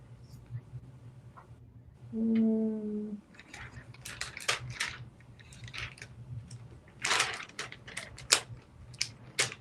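Scissors snip through a sticky piece of craft material in a series of sharp, close, irregular cuts in a quiet room, with a brief tonal squeak near the start.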